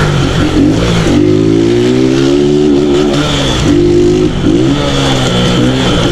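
A car engine held at high RPM, nearly seizing, roars loud and close, its pitch swinging up and down as the revs are held and pushed.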